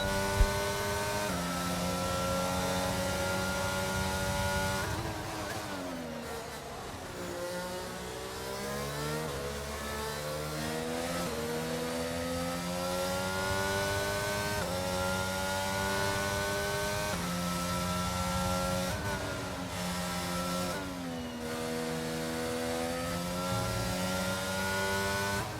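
Formula 1 car engine in F1 22 at Miami screams close and loud, revving up through the gears with repeated shifts and dips as it accelerates around the lap, continuous with no talk.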